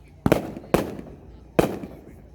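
A Freedom Max firework cake by Triumph/Red Apple Fireworks fires three sharp shots, two in quick succession and a third after a short pause, each a loud crack with a brief crackling tail.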